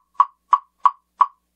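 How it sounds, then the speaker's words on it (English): A woodblock hit four times at a steady pace with an unwrapped red Encore rubber mallet, producing crisp, hollow, close-up knocks that stop short with brief decay and silence between. "Then we have red rubber, again an encore mallet, not wrapped with anything. Sounds like this."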